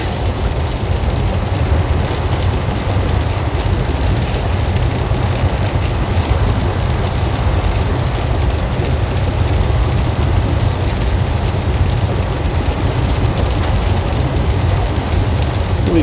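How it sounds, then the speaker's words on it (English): Steady rain drums on a truck cab at night while driving through Nebraska and South Dakota, a dense, constant hiss over low road rumble with no break. "Rain was running pretty hard a little while ago"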